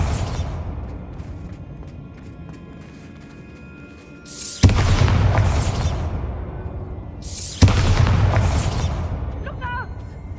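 Two loud Bombarda spell explosions in Hogwarts Legacy, each a sudden booming blast with a bright shattering burst that rumbles and decays over a few seconds, separated by a short gap of quieter game ambience.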